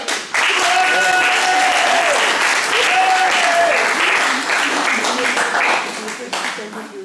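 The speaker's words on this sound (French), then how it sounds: "on peut applaudir son arrivée" A church audience at a pilgrimage evening applauds the arrival of its president with sustained, dense clapping that stays loud for several seconds, then thins and fades with a few voices underneath.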